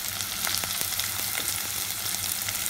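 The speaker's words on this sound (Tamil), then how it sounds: "இதை போட்டு நம்ம வதக்குறோம்." Sliced onion, green chilies and curry leaves sizzle steadily in a hot pan, with continuous close frying crackle and occasional soft stirring taps.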